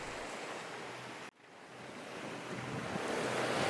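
Ocean waves and wind on a solo sailboat passage, a loud rushing wash of surf and gusting wind noise that cuts out abruptly for a split second before building back up.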